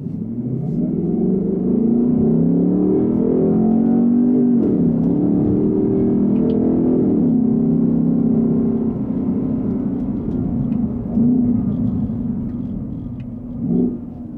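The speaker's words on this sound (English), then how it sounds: "you're going to be able to rev up the RPMs a lot higher before the vehicle either eventually shifts or you shift out yourself" A car engine revs high and steadily in manual mode while held in gear, a continuous close droning rumble rising and falling in pitch with small surges, with no talking.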